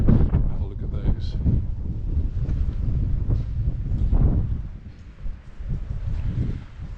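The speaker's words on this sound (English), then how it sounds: "it's a bit windy" Wind buffets the microphone in uneven gusts on a downhill walk back to the car at Finca Galatzo in Calvia, Mallorca. The rumble is loud and close and eases slightly near the end.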